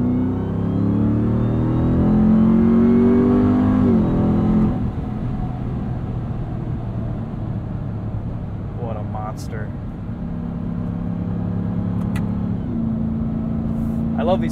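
A 2021 Ram 1500 TRX pickup drives at night in sport mode, its engine droning and climbing in pitch, then easing to a steadier cabin rumble with a few brief clicks, close and continuous.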